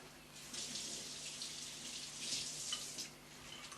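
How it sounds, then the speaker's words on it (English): Running tap water splashes over fingers being washed at a kitchen sink, a steady, soft hiss of flowing water with slight shifts as the hands move under the stream. "Just wash my fingers."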